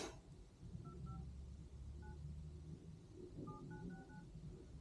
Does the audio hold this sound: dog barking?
no